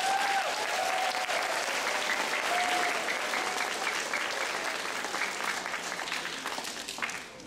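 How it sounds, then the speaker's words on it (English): An outdoor crowd at an Arbor Day tree-planting event gives steady, moderately distant applause that holds for several seconds and then tapers off. "So let's clap for them."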